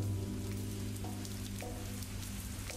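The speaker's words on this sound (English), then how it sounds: "the rain that continues its unrelenting downpour" Heavy rain pours in the video game Glory Hounds, a dense, steady hiss of drops on surfaces with a low hum beneath, continuous and close with no voices.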